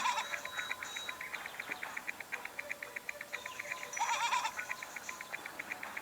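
Sheep bleat repeatedly in the PS Vita game Idiot Squad, a series of short reedy calls in quick rhythmic bursts over a faint background, fairly close and alone.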